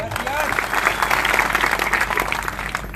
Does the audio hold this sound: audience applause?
yes